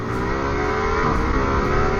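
2025 Ducati Multistrada V4 S adventure-touring motorcycle accelerates hard, its engine note rising and climbing in pitch in one loud, close, continuous surge.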